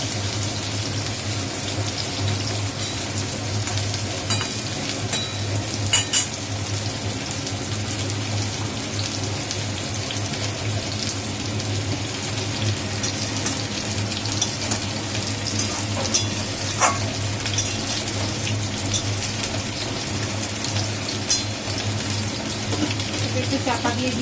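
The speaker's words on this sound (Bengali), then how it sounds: "একটু চাপা দিয়ে দিয়ে ভাজবো ভালো করে, যাতে সবজিগুলো সেদ্ধ হয়ে যায়।" Vegetables for neem shukto fry in a pan in a continuous, even sizzle, close and fairly loud, with occasional sharp pops and scrapes scattered through a long stretch and a low steady hum underneath.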